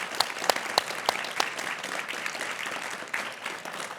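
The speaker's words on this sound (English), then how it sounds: "One more round of applause." An audience at a live talk show applauds its guest in a steady burst of clapping that holds evenly for about four seconds, with a few sharper individual claps standing out near the start.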